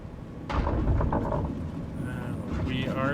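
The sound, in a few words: DHC-4 Caribou aircraft touching down on landing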